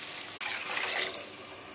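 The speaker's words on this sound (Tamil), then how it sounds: "இப்போ நான் இதுக்கு 500 ml தண்ணி ஆட் பண்ணிக்கிறேன்." About 500 ml of water is poured into a cooking pan while making ghee kichdi with semiya, producing a steady, close gushing pour that lasts under two seconds.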